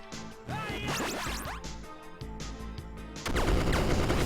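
Rapid gunfire bursts in the video game Mega Coin Squad, sharp repeated shots layered over music and synthetic effects, growing louder and denser near the end.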